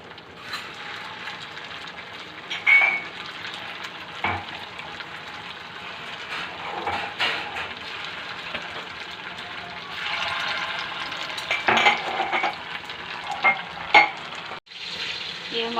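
Homemade potato snacks frying in hot oil produce a steady close sizzle with bubbling crackles and occasional louder surges as they are stirred, lasting throughout.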